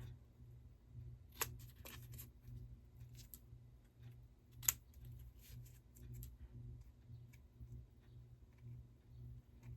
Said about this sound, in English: So I'm just going to trim this corner off just to give me some space to move and bend my paper.